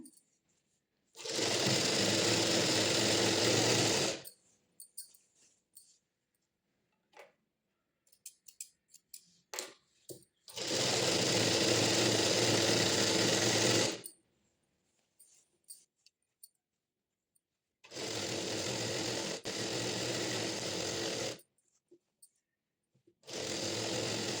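A sewing machine runs a double stitch on patiala pants in three bursts of steady whirring, each about three to four seconds long. Quiet pauses with small clicks and fabric handling fall between the bursts.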